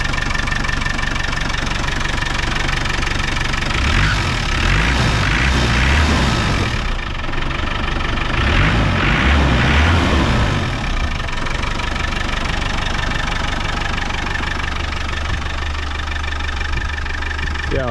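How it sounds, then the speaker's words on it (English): A Land Rover Defender 200tdi diesel engine idles close by with a steady, clattering knock and a low rumbling pulse that swells slightly at moments, running alone without talk. "Engine is nice and healthy."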